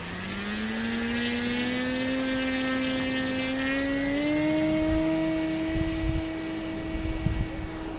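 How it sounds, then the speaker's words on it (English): An E-Flite Timber RC plane on skis in deep January snow runs its electric motor at full throttle for takeoff, a loud continuous whine that climbs steadily in pitch over about eight seconds, close and unbroken. "See, that was a full throttle on that takeoff, just trying to get it to airborne."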